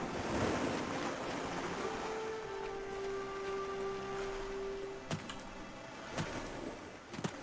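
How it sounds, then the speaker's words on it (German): Ocean waves break on a shore in the video game Nehrim, a continuous rushing wash of surf with wind, a faint tonal hum and a few sharp clicks near the end. "Da hört man die Wellen."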